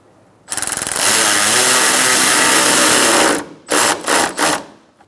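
A power tool drives a silver bolt into the front bumper impact absorber area of a 2012–2018 Ford Focus, a loud whirring buzz that runs about three seconds, then three short bursts as the bolt is snugged down, with no talking.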